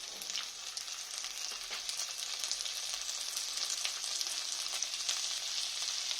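Onion and chopped tomato frying in a pan, a steady close hiss of sizzling with faint stirring scrapes, constant in level and free of talk.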